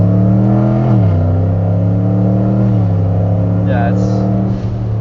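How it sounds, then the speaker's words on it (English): A car accelerates in second gear with paddle shifting, its engine droning loud and close as the pitch climbs, dips at a shift and climbs again, with people talking over it. "it's in 2nd gear right now. so he's using the paddles now"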